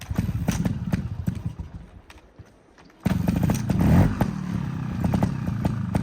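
Trials bike engine revving and running close by, a choppy, clattering idle that drops away briefly and then kicks back up louder with a throaty surge.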